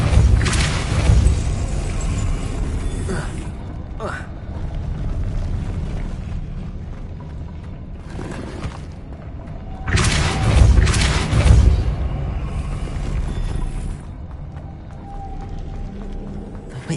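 The Depulso force spell in Hogwarts Legacy booms out in heavy, deep thuds, one loud burst at the start and another around the middle, each followed by a lingering rumble.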